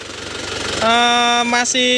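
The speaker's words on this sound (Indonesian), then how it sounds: "Masih suara khasnya Isuzu Panther." Isuzu Panther LS Turbo 2005 diesel engine running steadily close by, with a loud sustained tonal whine rising over a low rumble after the first second, unbroken and without talk.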